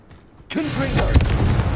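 A Confringo fire spell from the Hogwarts Legacy video game erupts halfway through after a quiet lead-in, a loud booming blast with a sharp crack near the end and sustained rumbling, with a brief in-game vocal sound mixed in.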